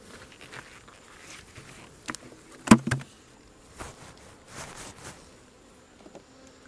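Honey bees buzzing during a beehive inspection while honey supers are checked: a faint, continuous hum with one sharp wooden knock partway through and a few light handling sounds.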